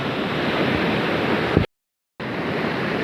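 Floodwater rushing over a small bridge after heavy rain at Chandoli, a loud steady roar cut by a half-second gap of total silence before it resumes just as strong.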